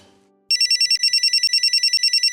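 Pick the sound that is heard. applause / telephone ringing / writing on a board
telephone ringing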